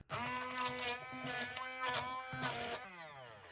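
Blender pureeing avocado for soap, a close whining motor that pulses and changes pitch through several bursts before winding down, with no talk.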